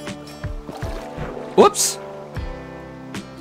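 A boat moves across water in Minecraft, with soft paddling and water sounds running under a voice as he speaks throughout.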